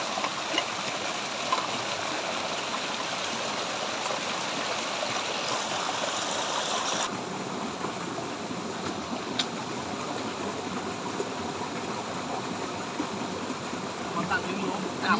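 Steady rush of a waterfall and stream flowing beside a rainy-season campsite, a dense continuous wash of water noise with a slight drop in brightness midway and no clear talk.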